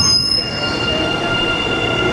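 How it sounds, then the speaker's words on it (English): A Boston subway train pulls in with loud, sustained metallic wheel squeal, high piercing tones over a rumbling rail roar, close by and without talk. "Ooh, and here's our train."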